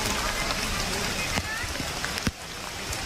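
Steady rain pours down on the way up Raigad fort, a dense hiss with a few sharper splashes, while faint voices murmur in the background.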